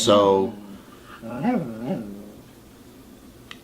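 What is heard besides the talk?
dog whimpering for attention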